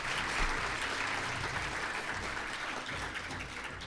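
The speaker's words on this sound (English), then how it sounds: "Let's give them another round of applause" A room full of guests at a STEM awards ceremony gives a full round of applause, thick continuous clapping holding steady for several seconds with only slight dips.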